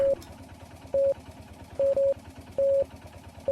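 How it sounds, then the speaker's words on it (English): Morse code telegraph beeps from the video game Martha Is Dead, a handful of steady tones of mixed short and long lengths in an uneven rhythm, clear and fairly loud over a low background rumble. "It's like a little Morse code karaoke."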